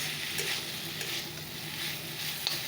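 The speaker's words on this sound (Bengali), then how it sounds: "ঝেঁকি শাক ভাজা হচ্ছে" Jhenki saag greens sizzle steadily in a hot pan as they are fried and stirred, a continuous close hiss with faint scraping touches and no talking.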